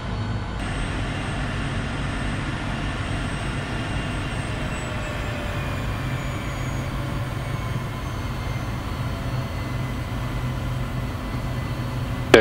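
Private jet taxiing at Knoxville airport in Tennessee, a steady loud broadband engine roar and hum with a faint high whine throughout, no talk.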